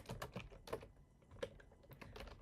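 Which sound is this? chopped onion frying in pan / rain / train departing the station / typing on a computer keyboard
typing on a computer keyboard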